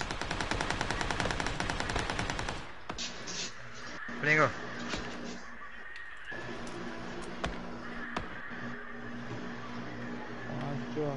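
Rapid automatic gunfire from a PS4 shooter rattles in a dense burst, then gives way to scattered single shots and game ambience while players talk over it.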